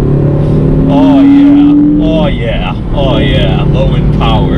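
Turbocharged 2.0-liter inline-four of a 2018 Ford Focus ST pulling hard under acceleration, a steady rising engine drone with someone talking over it throughout.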